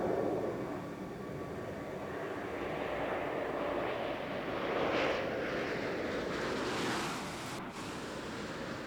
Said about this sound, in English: the runway clearly visible as Commander Jim Halsell brings Atlantis in for a landing